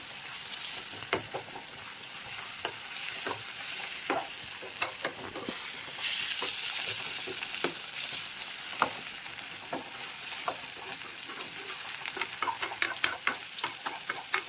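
Onions and tomato frying in a pan for chitranna, a close, steady sizzle with scattered ticks and scrapes of stirring, no talk.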